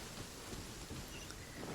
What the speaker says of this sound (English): That's called a thunderstorm.